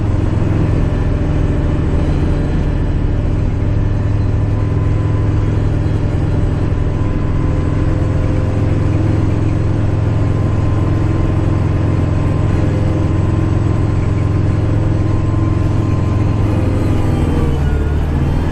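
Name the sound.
snow blower running, blowing snow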